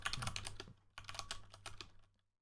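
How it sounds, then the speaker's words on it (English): Computer keyboards clatter with rapid, close typing in two dense bursts of clicks, separated by a brief pause before the keystrokes stop. "This show is heavily colored by the sounds of keyboards."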